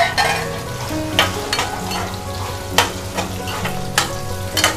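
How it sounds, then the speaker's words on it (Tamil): Small onions and dried chillies sauté in sesame oil for Andhra gongura, a close steady sizzle punctuated by several sharp spatula scrapes against the pan. "இதெல்லாம் நல்லா இந்த நல்லெண்ணெயிலே நல்லா வதங்கட்டும்"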